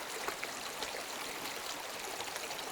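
Clear mountain stream water flows and trickles steadily on a hiking route toward Aasgard Pass, a constant close wash of water with small splashy accents and no voices.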